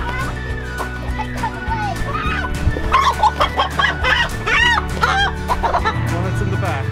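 Chickens in a backyard flock cluck and squawk in overlapping bursts at close range, with voices and other background noise mixed in.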